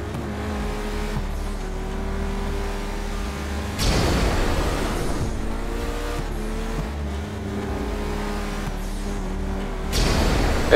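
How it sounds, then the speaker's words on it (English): A car engine droning on a freeway in Grand Theft Auto V, loud and continuous, with surges of acceleration and bursts of tire noise as the car speeds along; no talking. "The sound that engine makes on the freeway."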